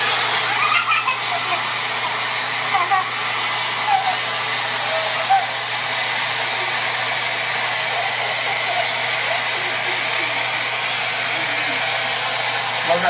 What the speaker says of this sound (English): Oh, she's blow drying